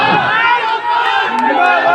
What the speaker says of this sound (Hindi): मैं यहाँ पर इतनी सारी भीड़ जो लड्डन भाई के चाहने वाले लोग हैं